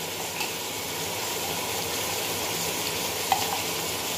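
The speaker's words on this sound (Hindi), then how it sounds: "अदरक लहसुन का पेस्ट डालेंगे, और अच्छी तरीके से इसे भूनेंगे।" Spices fry in a pan with ginger-garlic paste being added and stirred, a steady close sizzle with a faint scrape of the spoon and no voices.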